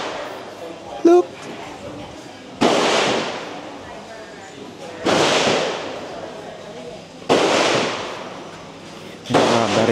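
Fireworks burst overhead at a crowded night market or festival, four loud broad crackling bangs spaced about two seconds apart, each trailing off into a hiss amid background crowd chatter.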